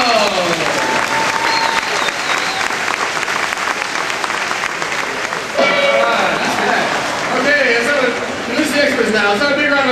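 An audience at the Indiana Jones stunt show applauds loudly and continuously, dense clapping with cheers filling the arena for about ten seconds, voices mixed in.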